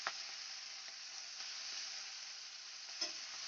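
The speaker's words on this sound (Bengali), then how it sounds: "চিংড়ি মাছগুলো আমি হালকা লাল করে ভেজে নেব" Prawns fry in a pan with a steady, dense sizzle throughout, with a couple of brief spatula clicks or stirs near the start and around the three-second mark; no voices.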